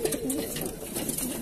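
A Taiwan pigeon hen coos softly and steadily at close range, a low, throaty, warbling call with no talking over it.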